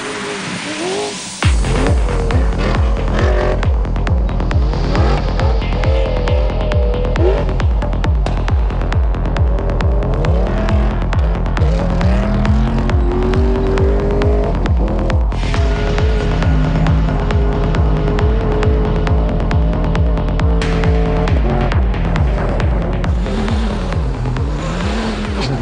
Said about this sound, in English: The V8 Ford produced an impressive sight and sound over the dunes.